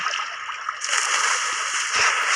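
Splashing and sloshing water from a shark video game, a steady broadband wash of spray with a few low thumps near the end, fairly loud and with no voices over it.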